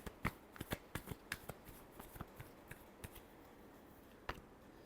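Tarot cards being shuffled for a last pass before a Cancer love reading: a quiet run of crisp, uneven riffling snaps and flicks, clustered at the start and thinning out, with one sharper snap near the end, close and alone.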